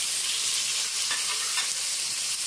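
Pork hits a pan of sautéed onions with a steady, close hiss of frying that holds evenly throughout, broken only by faint stirring scrapes.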